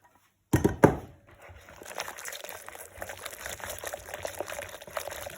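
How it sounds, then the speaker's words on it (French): Boiled milk is poured onto a whisked mixture of egg, sugar and cornstarch for choux pastry cream: a couple of sharp thunks from the pan, then a quiet, steady trickling stream of liquid into the bowl. "Une fois que le lait a bouilli, vous le versez sur ce mélange."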